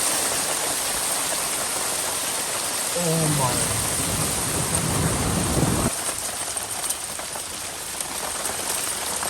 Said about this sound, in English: watching all the hail just falling down